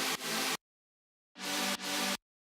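Dry, unprocessed synth track from a future bass mix: two short bursts of bright, full-range chord stabs, each pair of hits played loud and alone, separated by a gap of silence.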